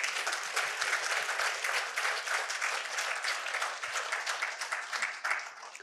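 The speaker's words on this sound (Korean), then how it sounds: "장 총재도 박수 한번 치십시오." Sustained audience applause at a lecture event, dense and steady clapping filling the room for the whole stretch without talk over it.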